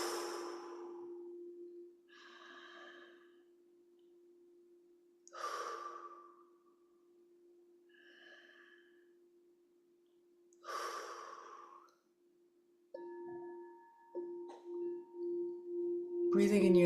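Slow, deep breaths in and out during a spring equinox breath ceremony, audible inhales and exhales spaced several seconds apart over a steady low drone, with a sharper breath sound near the end.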